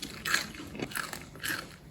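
Three loud, close crunches as someone bites into crispy fried fish skin on a fish taco, followed by brief chewing.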